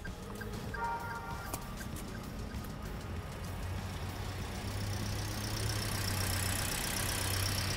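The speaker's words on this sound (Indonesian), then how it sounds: "Kita coba dengerin ya suara mesinnya kayak gimana." A Daihatsu Xenia 1.3 R CVT with a DOHC Dual VVT-i engine idles smoothly, giving a steady, fairly quiet low hum that holds constant throughout, with a faint hiss higher up toward the end.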